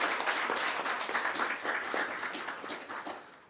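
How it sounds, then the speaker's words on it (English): Audience applause for schoolgirls at a city council meeting, a broad even clapping at moderate distance that thins out and fades toward the end. "Give them a huge round of applause"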